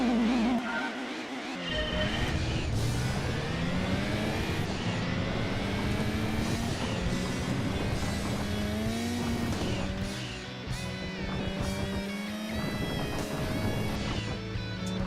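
Rally-modified race car in Gran Turismo 2, its engine revving and shifting continuously through the clip, with rising and falling pitch and bursts of tire squeal as it slides through corners.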